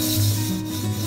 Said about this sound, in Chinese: 同样的，我们用洗洁精只洗锅的内壁